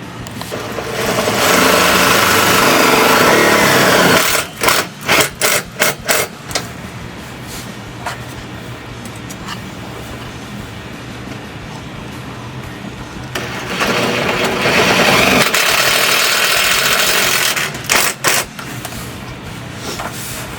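A power driver sinks 3/8-inch or 10 mm self-tapping tech screws into running board brackets on a Hyundai Santa Fe, with two loud sustained whirring runs, each ending in a few stuttering pulses, and quieter handling between them.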